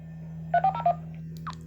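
A short burst of DTMF keypad tones from a Baofeng UV-5R handheld radio, three quick beeps in a row, then a faint chirp, all over a steady low hum, with no talking.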